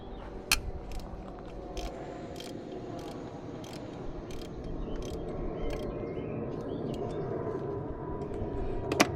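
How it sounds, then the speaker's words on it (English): A ratchet with a 16mm socket works a bolt on a Saab 900 convertible during a drive belt job, giving steady, evenly spaced clicks over a constant low background hum. "I don't have a 16mm spanner, but I do have a 16mm socket."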